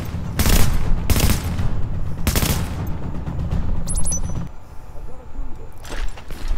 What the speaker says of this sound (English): I can actually use my gun to generate that. See, I'm shooting his turret.